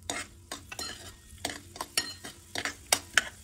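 Urad dal turning crisp in hot oil with crackling mustard seeds, stirred with a metal spoon in a pan: a busy, uneven run of sharp scraping strokes and clinks over a light sizzle, close and without voices.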